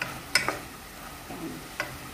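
Ingredients for chicken tinola are sautéed in a pan with soft sizzling and a few sharp utensil clinks and scrapes from stirring, quiet and close.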